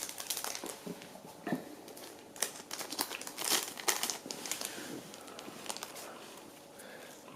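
Crinkly plastic of a Pokémon card booster pack wrapper being torn open and handled, a run of sharp crackling and rustling bursts close up with a faint voice in the background.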